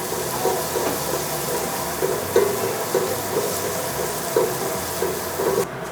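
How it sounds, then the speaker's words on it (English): Garlic cooks in a pan for spaghetti sauce, giving off a steady, even sizzle and hiss with faint soft pops throughout, and no talking. "Let's give that a minute to just kind of cook that garlic flavor"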